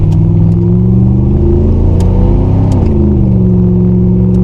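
A Chevrolet Camaro's engine roars loud and close, holding a heavy rumbling rev that rises and dips as the car is driven during a street drift, with no talk over it.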